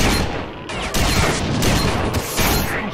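Bursts of rapid gunfire in S.T.A.L.K.E.R.: Shadow of Chernobyl crackle in quick succession, loud and harsh, broken by short pauses between volleys.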